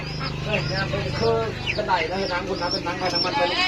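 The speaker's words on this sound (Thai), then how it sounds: "เพิ่นเลี้ยงเป็ดเลี้ยงไก่ในคอกนี่" Chickens and ducks cluck and chatter continuously in a pen, close by, with people talking over the birds.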